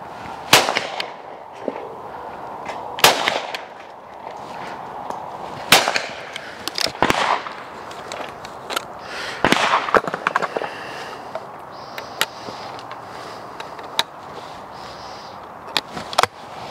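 Small-calibre shotgun fired at clay targets at a shooting ground, a string of sharp, loud cracks spaced a few seconds apart, some trailing off in faint echoes, with quieter handling sounds in between.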